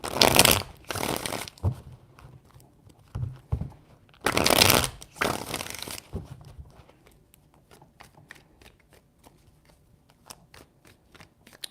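A deck of tarot cards is riffled and shuffled in several loud bursts, two long flurries separated by short taps, then lighter scattered card flicks and soft knocks.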